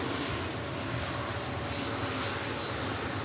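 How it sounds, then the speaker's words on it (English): Aer Lingus airliner bound for Barbados starts taxiing at Manchester Airport, giving a constant, dense engine roar that fills the whole stretch, steady and moderately loud. "the Aer Lingus for Bridgetown, Barbados is now also on the way out, ladies and gentlemen. Just beginning its taxi."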